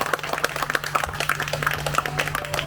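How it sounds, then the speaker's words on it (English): Small audience at an Escape Theme Park 10th anniversary event clapping steadily for a woman coming on stage, a moderate, fairly sparse patter of hand claps over a low steady hum. "give a round of applause to Aruwin as she comes here onto the stage"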